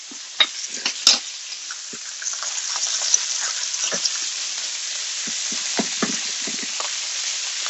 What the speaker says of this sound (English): there is no way to avoid the splattering of oil everywhere